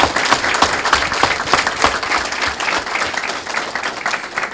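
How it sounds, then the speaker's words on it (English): An audience at a board of education meeting gives loud, dense applause that stays sustained and even from start to finish, with no clear voices over it. "So all of us, please give them one more rousing hand of applause."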